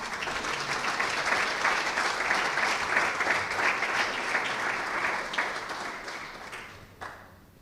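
A congregation at a Spanish-language church service gives sustained, fairly loud applause that holds steady for several seconds before quickly dying away at the end.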